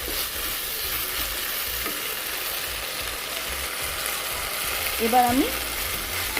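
Spices with garam masala and a little water are stirred and fried in a pan, giving a continuous sizzle with scraping stir strokes. A brief voice cuts in near the end.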